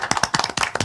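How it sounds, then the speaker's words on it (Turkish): A small audience in a Turkish television show studio claps for the saz players, several quick bursts of hand claps, close and fairly loud, with no talking. "Alkışlar onlara gelsin."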